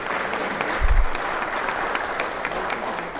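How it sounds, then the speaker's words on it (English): Applause from an audience in a state legislative chamber during a session, a steady wash of clapping that holds at even strength from start to finish. "give her a round of applause here."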